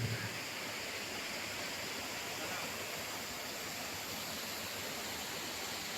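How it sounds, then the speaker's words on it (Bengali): A waterfall in Meghalaya pours down from a lake, making a steady, even broadband rush with no breaks, heard alone at moderate distance. "এই দেখুন কি অপরূপ লাগছে, ঝর্ণার জলটা পড়ছে"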